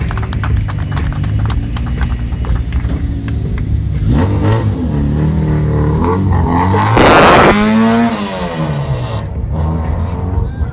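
A rally car engine, an Opel Astra at a mountain rally start near Varna, revs up and down in rising and falling sweeps, loud and close, with a rougher burst midway.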